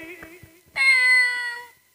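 During a comedy Ramlila stage performance, a man imitates a cat with a single drawn-out meow about a second long. Brief speech comes just before it.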